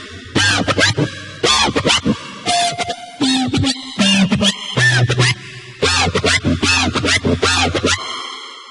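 Heavy synthesized riddim bass plays in choppy, rhythmic bursts with shifting wobbling, screechy tones and brief gaps between notes, loud and up front.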